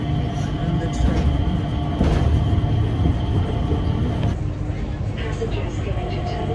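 An airport SkyTrain shuttle rumbles along on its way to the terminal, a steady low mechanical drone with rattling carriage noise and a brief shift in tone near the end, while people can be heard around it.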